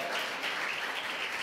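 A church congregation claps during a Sunday worship service in Erode. The applause is a continuous, even patter that sounds slightly distant and stays steady throughout, with no speech over it.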